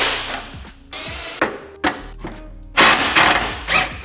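Ratchet clicks and metallic clunks from removing a bolt on an A90 Supra fender, coming as several short close bursts with thuds between them and no talk.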